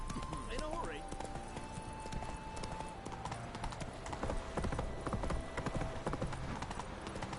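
Roach, a horse in The Witcher 3: Wild Hunt, gallops with rhythmic clip-clopping hooves under game music and ambient sound, while a voice speaks over it.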